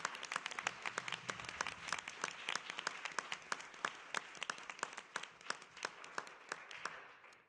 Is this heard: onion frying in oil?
no